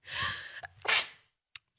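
A single loud, close human sneeze: a breathy intake swells into a sharp explosive burst, then a brief faint click follows in the quiet afterward.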